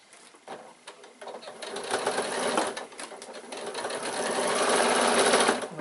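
A sewing machine stitches slowly through several thick layers of fabric on a piped bag, a close, steady mechanical whir that rises slightly in intensity as it runs, with no talking.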